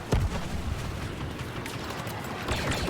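Gunfire in the video game Star Wars Battlefront II comes as quick bursts of shots over a busy battle din, with a sharp blast near the start and another near the end.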